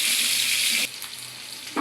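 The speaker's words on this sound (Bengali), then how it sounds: "ডিম দিয়ে ভাজার জন্য তেল দিয়ে দিছি" Oil sizzles loudly in a pan, readied for frying eggs in a spinach and egg curry; a strong steady hiss drops to a quieter crackle partway through, then briefly swells again at the end.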